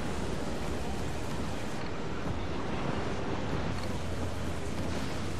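Stormy sea waves roar in the pirate game Assassin's Creed 4 Black Flag as a dense, unbroken wash of surf and wind noise, loud and steady throughout with no distinct breaks.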